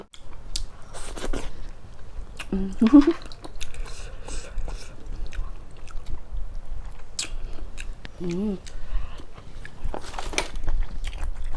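Boiled apple snails being eaten close to the microphone, with sporadic wet bites, slurps and chewing separated by quiet gaps and no talking.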